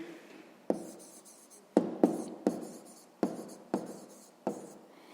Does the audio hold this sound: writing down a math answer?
yes